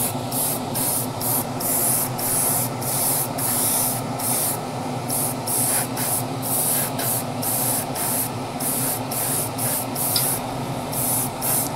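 Spray paint hisses onto a Tamiya Castrol Celica WRC RC car body in short, rapid, regular bursts, close and loud, continuing steadily with no talking.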